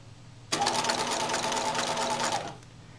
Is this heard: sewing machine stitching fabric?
yes